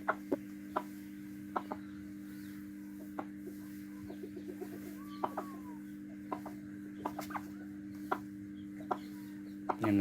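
An Asil hen gives short, scattered clucks over a steady background hum, sharp isolated notes spaced irregularly across the stretch with some quieter calls between, no talk.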